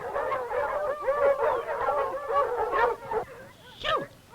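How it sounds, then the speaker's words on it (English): A pack of hound dogs howls and bays together in a continuous overlapping chorus, close and loud, ending in a sharper single yelp. "Get these hound dogs out of here."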